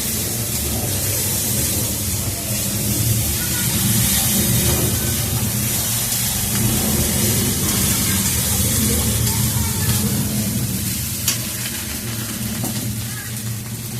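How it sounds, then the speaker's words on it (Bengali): Constant loud sizzle of hot oil in a pan with turmeric, fish and potatoes frying, a dense steady hiss running throughout with background kitchen noise. "এবার আমি তেলে একটু হলুদ দিয়ে দিলাম। এবার ফোটাটা বন্ধ হয়ে যাবে।"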